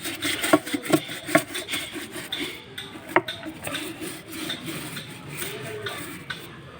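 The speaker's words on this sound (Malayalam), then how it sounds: "ഇവിടെ ഒന്ന് ചെറുതായിട്ടൊന്ന് ഉരച്ചെടുക്കാനുള്ളതേ ഉള്ളൂ." A brush scrubs the inside of a home fish tank, making close, soft, irregular rasping strokes with a few sharper scrapes over steady quiet rubbing.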